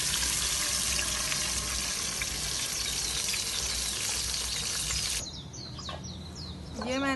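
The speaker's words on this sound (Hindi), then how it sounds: "ये मैंने जो मसाला ग्राइंड किया था ना, इसे हमने अब भून लेना।" Ground spice paste fries in ghee with a steady, close, dense sizzle for about five seconds, then drops away to a quieter hiss with faint bird-like chirps near the end.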